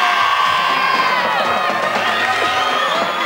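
A studio audience cheers and shouts for the band, a loud, dense swell of excited voices and whoops that carries through the whole moment.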